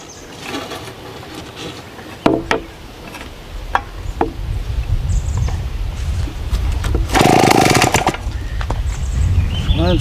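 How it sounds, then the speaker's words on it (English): A vintage small chainsaw runs loud and rough, with sharp snapping cracks through a ragged engine buzz that swells into a harsh burst before settling back. "You hear that nasty snap? Sounds just like a crappy new chainsaw."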